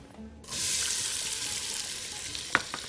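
Chopped onion hits hot olive oil in a pan for a chicken freekeh soup, bursting into a steady, loud sizzle after a brief quiet start, with a faint clink near the end.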